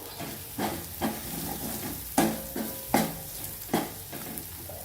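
Ground spices such as coriander powder stirred and fried in a pan for a drumstick dal, a continuous close sizzle with regular scraping strokes of a spoon roughly every second, no voices.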